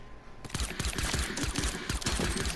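Sniper rifle fire in Fortnite Battle Royale, a rapid cluster of loud sharp shots and cracks in quick succession, close and punchy, with no voices.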